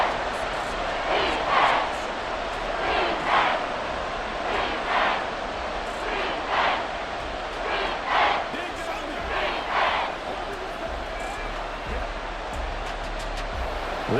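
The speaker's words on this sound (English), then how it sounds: "This crowd turning up the decibel level." Stadium crowd in Madden NFL 24 during a 49ers vs Titans preseason game, a sustained roar with repeated swelling waves of cheering, broad and distant-sounding, with no commentary over it.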